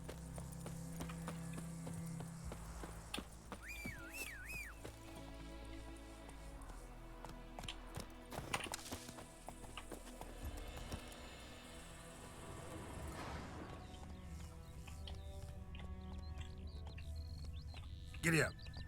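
Rhythmic clip-clop of horse hooves trotting in the video game The Witcher 3: Wild Hunt, steady and continuous beneath game music and a speaking voice.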